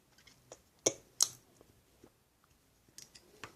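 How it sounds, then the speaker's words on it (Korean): Wet lip smacks and clicky chewing noises, close to the mouth, arriving in scattered bursts separated by quiet pauses. "아 쩝쩝거리는 것좀 고쳐야겠다"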